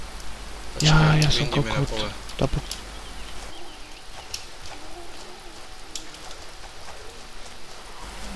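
Steady rain hisses through the Arma 2 DayZ game world as a continuous soft wash, with someone speaking loudly over it at the start.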